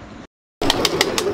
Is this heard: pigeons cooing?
yes